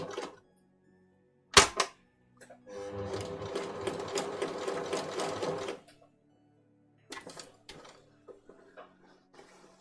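A sewing machine stitches a child's jacket in one steady run of about three seconds, close and clear, with short mechanical clicks and brief stitch bursts before and after.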